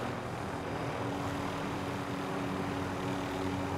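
A helicopter flying in a video game, a steady, loud rotor and engine roar that holds evenly throughout with no voices.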